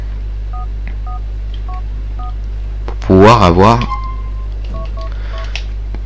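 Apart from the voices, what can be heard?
dialing a cheat code on the in-game phone in GTA IV video game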